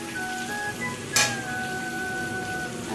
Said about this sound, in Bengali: এখন মশলাটাকে আমি কষাবো একটু জল দিয়ে